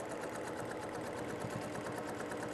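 A sewing machine stitches free-motion quilting in a fast, even mechanical chatter. It runs steady and fairly faint throughout, with no voices.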